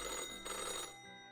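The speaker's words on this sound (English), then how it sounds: "The old-fashioned phone suddenly rings with an ear-piercing metallic clatter." An old-fashioned telephone rings with a harsh, ear-piercing metallic clatter in a quiet office, a dense bell tone sounding alone before fading off.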